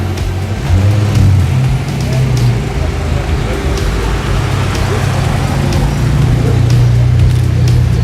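A rally car pulls away from the start line at a discovery rally in the Var hills of Provence, a loud continuous engine drone with low rumble throughout, steady and close, with a voice faintly mixed in.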